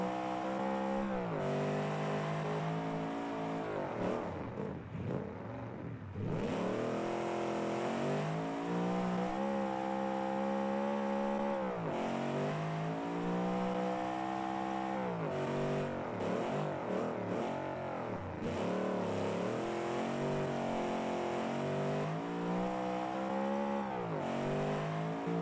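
A classic rally car's engine in a rally racing video game revs loud and steady through tight hairpins in second gear, rising and falling continuously with no talk.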